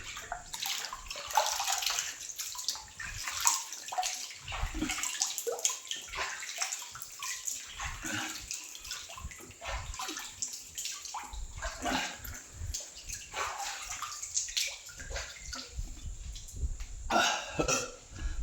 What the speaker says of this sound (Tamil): தண்ணி உள்ள இறங்குறங்க அப்படியே பார்த்து இறங்கி வரணும்